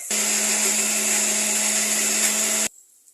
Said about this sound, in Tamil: இதை மிக்சியில் நம்ம அரைச்சி எடுத்துகிட்டு வந்துடலாம்